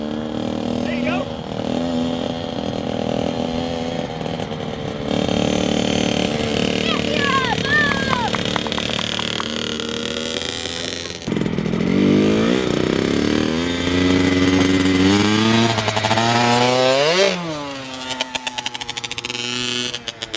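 A motorcycle engine is revved repeatedly before a ride, rising and falling through several throttle blips, loud and close, with people talking over it.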